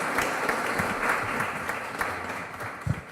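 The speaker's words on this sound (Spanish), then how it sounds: "le hacemos entrega y un aplauso para él" Steady, dense applause fills a formal legal conference hall for a speaker, continuous and fairly near with no talk over it.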